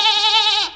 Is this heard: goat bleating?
yes